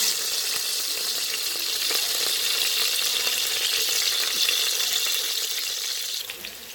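Chopped onions hit hot oil for a vegetable stew with habanero and green pepper, setting off a steady, loud broadband sizzle that holds evenly throughout and eases slightly near the end.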